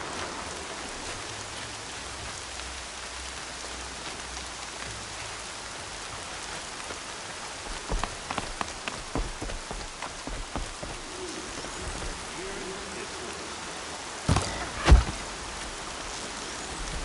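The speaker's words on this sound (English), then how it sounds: "More rain. My boots will get damp." Rain falls steadily in a PS4 video game as a soft, even hiss, with a patter of heavier drops or footsteps midway and a couple of brief louder thumps near the end.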